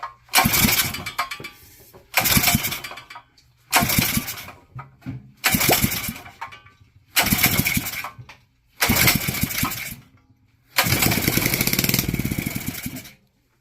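A Predator Hemi 212cc generator engine cranked on starter fluid sputters and roars in seven separate bursts, each a few seconds long with brief quiet gaps between, loud and close.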